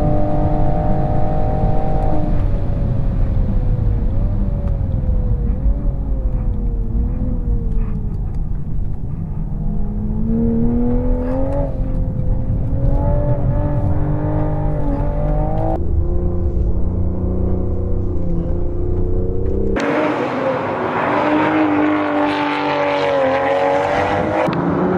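A Toyota Supra laps the Interlagos race track, its engine revving up and down through gear changes, loud and close. Near the end the note shifts to a harsher, higher tone, and a voice speaks briefly.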